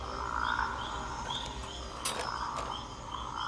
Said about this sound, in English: a male rocket frog